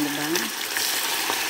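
Chicken frying in a very hot pan gives a loud, steady close sizzle with a brief low hum at the start.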